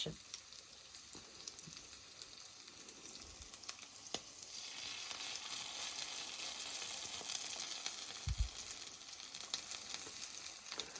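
Chunks of liver with vegetables sizzle as patties fry in a pan over medium heat, a steady close hiss with occasional pops and a couple of soft spoon or pan knocks, no talking.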